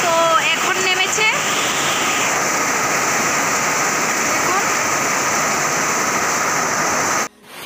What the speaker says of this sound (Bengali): বৃষ্টি হয়নি, তো এখন নেমেছে।